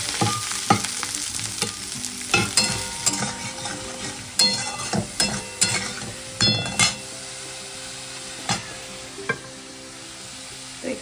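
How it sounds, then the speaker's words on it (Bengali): Brinjal (eggplant) pieces fry in a pan with a steady sizzle. A spatula stirs them with repeated scrapes and metallic clinks against the pan. The sounds are close, with no talking. "এখানে বেগুনগুলো ভেজে নিচ্ছি"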